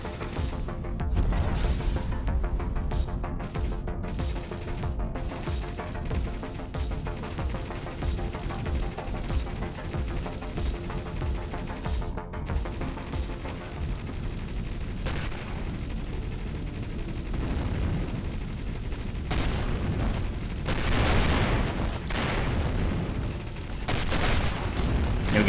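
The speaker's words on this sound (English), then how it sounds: "Looks like we're still a little bit overwhelmed by taking fire from all of them at once." Pirate ships open fire in the space game Avorion, a dense, continuous barrage of rapid weapon blasts and booms, loud and unbroken across the whole stretch with sharper bursts here and there.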